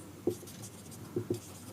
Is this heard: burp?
no